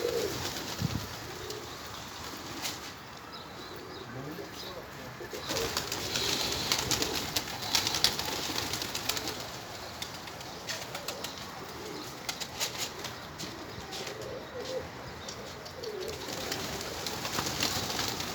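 Pigeons coo and flap their wings nearby in a steady soft background, with intermittent wingbeat bursts and occasional calls, and no talk over them.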